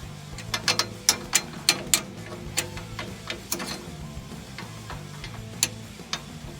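A ratchet wrench turns a shock adjustment nut on a Can-Am Commander, giving a series of crisp, close clicks, clustered quickly at first, then sparser and fainter, with no talk.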